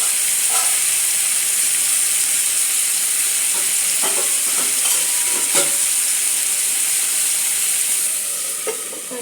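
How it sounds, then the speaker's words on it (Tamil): Tomatoes and coriander stems sauté in a pan for takkali chutney, giving a steady, loud sizzling hiss throughout, with occasional stirring scrapes and small pops. "இது நல்லா வதங்கட்டும்."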